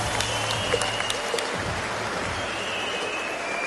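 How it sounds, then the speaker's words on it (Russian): An audience at a boxing match applauds after a ten-round bout, a dense, even patter of clapping that fills the space continuously at moderate volume with a few sharper accents. "прежде всего аплодисменты боксерам"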